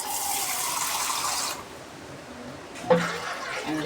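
Running water pours steadily into a pot on the stove for about a second and a half, then stops; a brief clank and a softer trickle follow.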